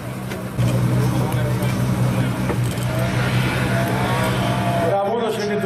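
A car drifts at an autoslalom event in Berndorf, a steady loud engine drone holding for several seconds with tyre and motor noise, while people talk over it.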